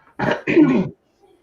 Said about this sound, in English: I'm going to excuse me for my cough here.